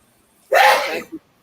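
A single sharp sneeze indoors in a kitchen, close and fairly loud, a quick breathy burst followed by a short trailing catch, with near silence around it.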